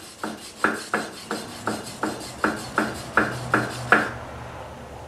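Hand plane blade honed on a sharpening stone, about ten rhythmic rasping strokes, each a short scraping swipe, close and clear, then stopping.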